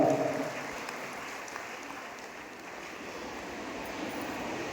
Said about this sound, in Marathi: टाळ्या वाजवा सभासद टाळ्या वाजवा